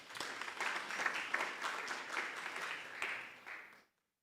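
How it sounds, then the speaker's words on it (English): Applause fills a hall at a campus safety launch as an army colonel is called to the podium: a sustained crowd of clapping hands that swells, holds steady, then stops abruptly into silence. "Let's give him a round of applause."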